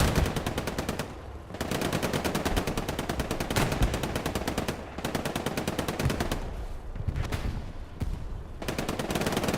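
Sustained machine gun fire in the World War II game Hell Let Loose, set in Hurtgen Forest: rapid continuous bursts with brief pauses, several guns firing at once, loud and dense, with no talk.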